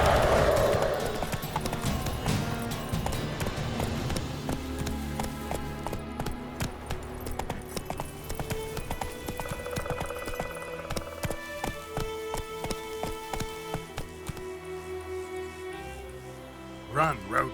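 A horse gallops in The Witcher 3 video game. Rapid, rhythmic hoofbeats sound up close across the whole clip, alongside game sounds and a brief voice.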